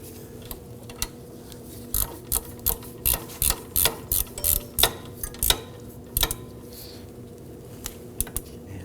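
A ratchet snugging up the top brake caliper bolt on a 2001-2009 Volvo S60 during a rear wheel bearing and hub replacement, with a rhythmic series of sharp, close clicks in quick bursts, then a few sparse clicks.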